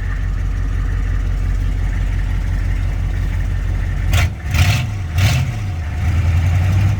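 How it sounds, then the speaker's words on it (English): A 6.5 turbo diesel engine idles steadily with a low, continuous drone, then a few brief bursts of higher-pitched noise and a short wavering change in engine tone before the steady running resumes. "Sounds like the vacuum pump's making noise."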